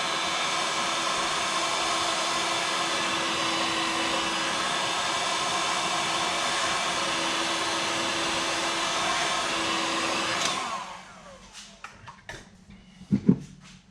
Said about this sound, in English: Quick hit with this heat gun.